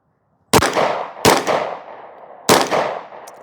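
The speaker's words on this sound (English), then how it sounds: "Actually, let's do some headshots." Three loud, sharp handgun shots fired at close range in an uneven rhythm, each followed by a ringing decay, on a shooting range with an Aimwin PN320 red dot fitted to the pistol.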